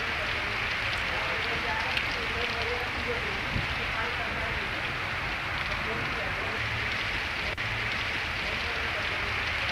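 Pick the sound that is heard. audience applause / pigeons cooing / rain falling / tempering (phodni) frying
rain falling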